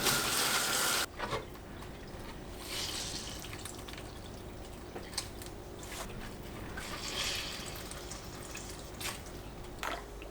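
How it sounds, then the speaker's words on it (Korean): Salted eggplant rinsed under a running kitchen faucet, a steady close hiss of flowing water with brief splashes and shifts as the pieces are handled, no voices. "절인 가지를 흐르는 물에 헹구고 물기를 짜주세요."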